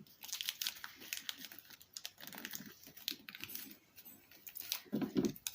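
Paper crinkles and rustles in bursts of soft handling as a small package is wrapped, close and quiet, with irregular crackles and taps.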